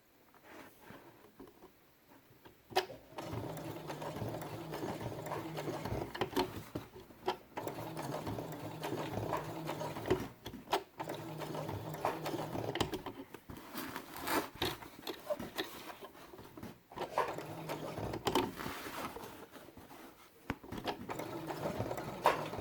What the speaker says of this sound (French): Et maintenant, on va coudre le petit bout d'oreille.